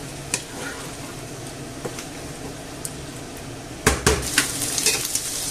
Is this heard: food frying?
yes